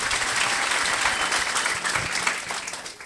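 A church congregation applauds with steady, dense clapping that stays loud and close throughout, with a faint crowd murmur underneath.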